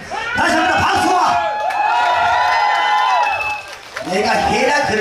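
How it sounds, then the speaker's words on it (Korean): Festival crowd at the Danyang Sobaeksan Royal Azalea Festival clapping, cheering and shouting loudly and continuously, with a brief dip before swelling again; a performer's amplified voice talks over the crowd noise. "이왕 또 박수까지 쳐주시는 거 함성까지 좀 질러주시면 안 돼?"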